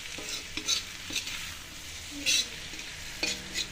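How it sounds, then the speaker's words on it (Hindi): Bitter gourd with spices frying over a medium flame while a utensil stirs and scrapes the pan in irregular strokes, soft sizzling underneath and a few light metallic clinks, nearby and moderately quiet, without speech. "मीडियम फ्लेम में इसको इस तरह से अच्छे से इसको भून लेंगे"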